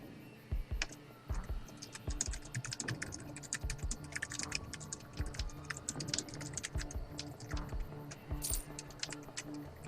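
Fingers type quickly on a computer keyboard, a dense run of close, crisp key clicks with brief pauses, continuing steadily throughout with low background hum and no talking.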